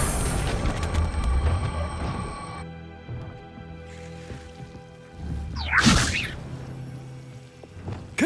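A Wingardium Leviosa levitation spell is cast in Hogwarts Legacy, with whooshing, shimmering magical tones that fade out. A sharp swishing burst follows, then a few soft thuds.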